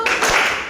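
A classroom of students gives one quick clap on the teacher's cue, a short sharp burst fading almost at once.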